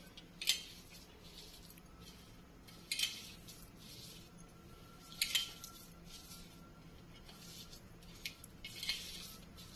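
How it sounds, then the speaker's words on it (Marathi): Soft metal-spoon clinks and scrapes against a bowl while homemade masala ingredients for stuffed brinjal, with half a spoon of oil, are stirred and mixed together; four or five sharp taps spaced a couple of seconds apart over a quiet background. "आता तो छान स्टर करूयात, सगळे जिन्नस"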